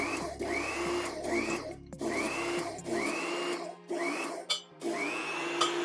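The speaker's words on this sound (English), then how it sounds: "this is what happens when we're actually forcing the pipe into the ground" Hydraulic pier-driving machine pushing steel pier pipe down into the ground, a steady loud mechanical hum with repeated rising whine cycles and brief pauses, alone without talk.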